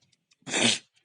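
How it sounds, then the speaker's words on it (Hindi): A single loud, close human sneeze, a short breathy burst rising and fading within half a second against near silence. "छींके पे छींके आई जा रही हैं"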